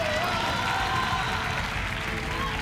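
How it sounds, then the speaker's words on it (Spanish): A studio audience on a television show applauds for Ariel, continuous clapping mixed with some crowd noise and faint cheering, even in level, with a voice faintly present beneath. "Quiero pedir un aplauso a Ariel"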